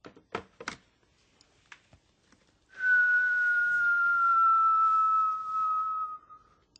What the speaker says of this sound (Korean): 녀석이 나타나기를 바라며 휘파람을 분다